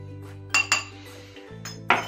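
A spoon scoops paprika into a bowl, making a few sharp metallic clinks against the dish over a low background hum. The taps come in short, separate bursts.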